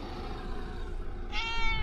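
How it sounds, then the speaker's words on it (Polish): A cat meowing once, close by, with a short rising cry near the end over a low, steady background hum. "A dlaczego ty do mnie miałczysz?"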